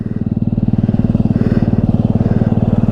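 A motorcycle engine idles steadily up close after a throttle cable repair, its even low thumping pulse running without a break and with no talking.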